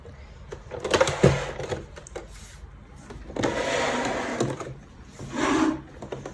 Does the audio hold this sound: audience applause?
no